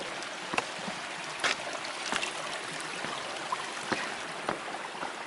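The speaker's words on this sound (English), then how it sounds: "A little waterfall." Small waterfall on a stream along the Pacific Crest Trail, giving a soft steady splashing and trickling with occasional brief splashes, moderately close and fairly quiet, with no voices.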